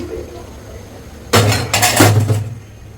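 Meat pours from a metal vessel into a pot of bubbling khichuri, a sudden burst of clattering, clinking metal and splashing after a quiet simmer, then tapering off.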